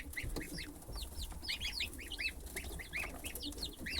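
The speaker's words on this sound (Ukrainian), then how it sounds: "14-го народились курчата, а 23-го гусята." Many high, rapid peeps from days-old chicks and goslings overlap continuously, a busy chorus of chirping with faint background shuffling.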